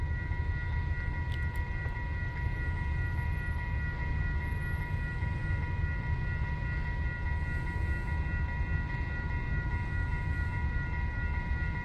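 An intermodal container freight train passes a railroad crossing where the gates are malfunctioning, giving a steady, continuous rumble with sustained high crossing-bell tones throughout and no talk.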